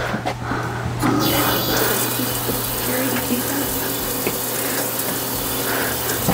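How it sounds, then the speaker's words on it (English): Water streams steadily from an outdoor shower at a boutique hotel in Amador City, a loud continuous hiss and splash with a low steady hum underneath. "A freaking outdoor shower"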